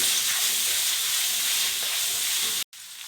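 Chopped onion, ginger and garlic browning in oil in a pan, a steady close hiss of frying that holds throughout, broken by one brief silent gap near the end.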